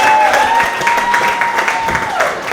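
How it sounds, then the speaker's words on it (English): Audience at a stand-up comedy show applauds loudly and steadily, a dense close wash of clapping from the crowd, with a few faint voices mixed in underneath. "Keep clapping."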